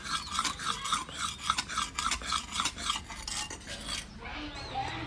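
Spices being ground hard for mutton on a stone grinding slab, giving a steady rhythmic rasping and scraping, close and fairly loud, that runs without pause for several seconds before easing off near the end.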